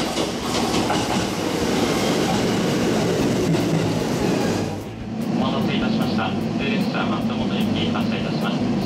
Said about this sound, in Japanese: 松本行きの電車17時ちょうどに出発します。